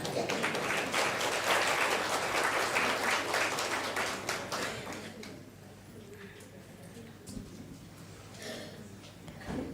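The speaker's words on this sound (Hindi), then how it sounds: "दीदी का एक हाथ की ताली से बहुत बहुत धन्यवाद करते हैं।" Applause for a female spiritual teacher at an Om Shanti gathering, dense clapping that swells then thins out over several seconds, with voices talking beneath it.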